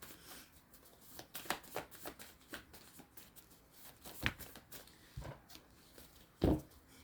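Tarot cards shuffled and drawn at a quiet reading: soft papery riffles and light flicks scattered throughout, ending in one sharper slap of a card set down.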